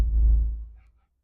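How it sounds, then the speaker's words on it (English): A deep, heavy rumble swells briefly and then fades away within about a second, as delivery lorries pass by outside. "Delivery lorries going past as usual."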